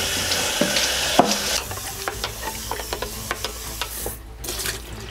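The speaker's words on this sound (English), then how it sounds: "So all the vodka's just going down the sink." Vodka poured out and rinsed down a sink, with a rushing splash of liquid at first, then scattered drips, clinks and small knocks close by, no voices.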